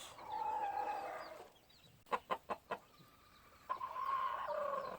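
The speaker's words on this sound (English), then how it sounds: "Here's one of the brown red roosters. Pretty roosters, jet black." Gamefowl roosters and hens cluck and murmur close by, with a quick burst of four sharp squawks in the middle, then steady clucking resumes.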